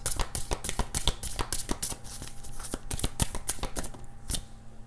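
Tarot cards riffled and shuffled in rapid, crisp bursts of papery flicks and snaps, close and fairly loud, with no talking.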